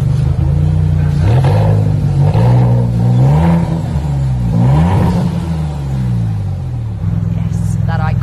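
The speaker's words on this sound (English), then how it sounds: "Yes, that iconic Maserati gurgle." A 2020 Maserati MC20 supercar revs its engine in repeated blips, the pitch rising and falling several times in a deep, gurgling rumble, close and loud throughout.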